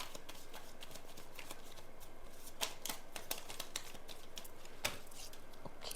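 Tarot cards being shuffled, a steady dense papery riffle and patter running throughout with a few sharper snaps, close and fairly quiet, no talking.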